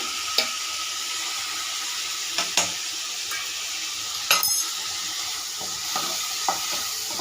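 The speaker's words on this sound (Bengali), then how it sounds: "মশলাটা একটু কষে নেব। এদিকে একটু জিরের গুঁড়োও দিয়ে দেবো।" Cumin powder and spice masala frying in a pan for a potato and pointed gourd curry, a steady broadband sizzle with a few sharp scraping stirs and clinks of a spoon against the pan.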